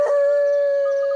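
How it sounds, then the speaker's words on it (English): Hyenas in an animated jungle movie howl at the moon, one sustained, steady, wavering tonal howl held loud and close, with no talk over it. "after the hyenas is done teaching him a lesson, they howl at the moon"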